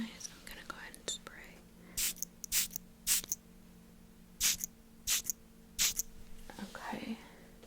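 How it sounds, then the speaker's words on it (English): A few short hissing bursts of spray during a brow and lash appointment, close and soft, interspersed with quiet whispering and small handling noises. "I'm gonna go ahead and spray."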